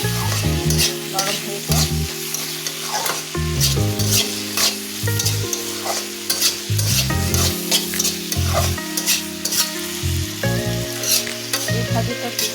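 Pumpkin slices frying with sugar in a pan and being stirred: steady close sizzling with repeated scraping and clattering of the spatula throughout.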